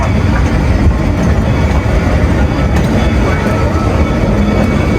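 Loud rumbling rattle of a tourist train rolling along rails through a forest, with steady mechanical clatter and occasional metallic squeaks throughout.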